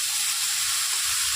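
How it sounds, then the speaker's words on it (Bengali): Cabbage and mixed winter vegetables sizzle steadily in a pan with little oil as they are stirred together, a continuous close hiss of frying with soft scraping underneath. "মামনি বাঁধাকপিটা দিয়ে এবার সবজির সাথে ভালো করে ফুলটা মিশিয়ে নিচ্ছে।"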